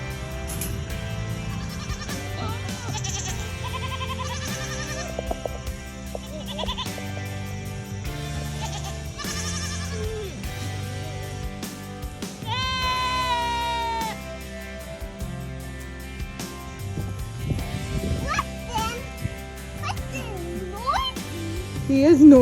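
Goats on a homestead bleat repeatedly during winter kidding season, with wavering, strained cries rising over a busy farmyard background full of other animal noise, loudest near the end.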